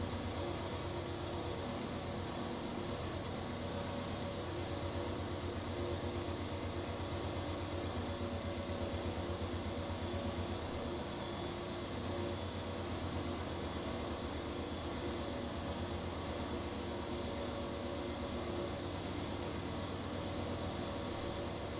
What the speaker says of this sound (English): This train, these engines